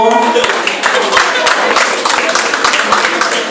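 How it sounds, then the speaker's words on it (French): An audience at a Miss Prestige Réunion beauty pageant applauds a candidate, with dense, close, steady clapping throughout and a voice speaking over it. "c'est vos applaudissements."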